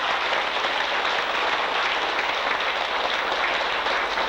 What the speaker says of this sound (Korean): 법문을 내려주시라는 뜻으로 박수를 쳐주십니다